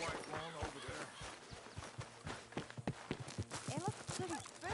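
Horse hooves clop in an uneven rhythm beneath talking voices, with music playing along in the background, from the video game Red Dead Redemption 2.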